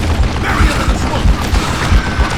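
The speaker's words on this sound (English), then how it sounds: "I gotta reload again!" Mechanical clicks and clacks of a gun being reloaded in the Western shooter Call of Juarez: Gunslinger, repeating in an uneven rhythm over low thumping game noise and music, loud and close.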